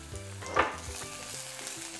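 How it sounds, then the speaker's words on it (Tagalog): Garlic and onion sautéing together in oil in a heated pan, a soft steady sizzle with stirring scrapes and one brief louder crackle near the start. "Igisa ang bawang at sibuyas. Isabay ko na."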